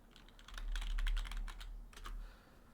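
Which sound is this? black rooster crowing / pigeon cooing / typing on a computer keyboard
typing on a computer keyboard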